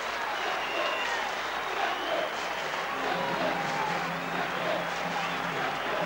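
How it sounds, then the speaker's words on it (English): A big stadium crowd roars a sustained, steady welcome as Hull's rugby league side runs out onto the Boulevard pitch against Barrow, with a dense wash of cheering and applause throughout. "Hull enter the Boulevard Arena to a typical thunderous welcome"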